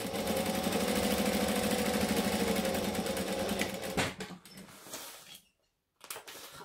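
A sewing machine stitching forwards and backwards on a Devon pouch: a loud rapid mechanical whir of the needle for about four seconds, then short uneven bursts, a pause of near silence, and a final brief run.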